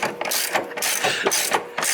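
Rapid ratchet clicking in several bursts as motor mount bolts are snugged down on a 2008-2012 Hyundai Santa Fe, loud and close, with brief pauses between strokes and no talk.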